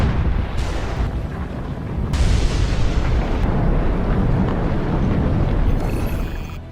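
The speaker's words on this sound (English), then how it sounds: "The Hunga Tonga underwater volcano abruptly woke up from its sound sleep" The Hunga Tonga underwater volcano eruption gives deep, rumbling booms, with sharp blasts near the start and a sustained loud roar that follows, heard without any voices.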